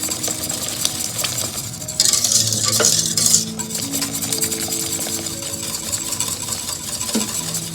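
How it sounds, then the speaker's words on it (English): A whisk scrapes and clinks briskly around a pot of boiling agar agar kaya mixture, a steady busy stirring with a louder rattling stretch midway and a low rumble underneath. "I need to keep whisking it so that it doesn't boil over."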